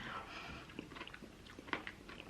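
Crunchy chewing of a chocolate McFlurry ice cream with chocolate chip pieces, close and quiet, with several short irregular crunching bites.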